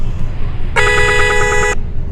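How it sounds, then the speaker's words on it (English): A car horn sounds one steady, sustained honk lasting about a second, loud and close, over low rumbling background noise while stranded during a blizzard evacuation. "I tried to honk him for help"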